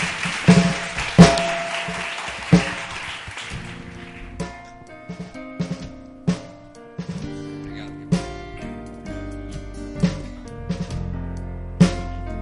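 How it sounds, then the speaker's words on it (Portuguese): A church congregation claps in a dense burst that fades over the first few seconds, then gives way to sustained music with keyboard chords and sharp percussive taps. "Mais um aplauso ao Senhor."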